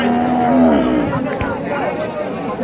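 An Australian-breed dairy cow moos loudly at a cattle market, one long drawn-out call close by over steady crowd chatter and background noise.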